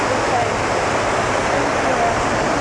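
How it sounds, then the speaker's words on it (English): Running water from a waterfall in a scenic outdoor setting, a steady broadband rush that stays loud and unbroken throughout, with no other sounds standing out. "I like the running water."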